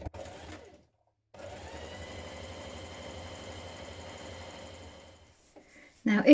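Sewing machine back tacking the start of a seam on a sweater: a steady mechanical whir running for several seconds after a brief burst and pause, close and alone.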